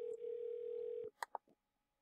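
An outgoing call tone in Google Voice holds steady for about a second, then stops, followed by a few short, quiet electronic blips.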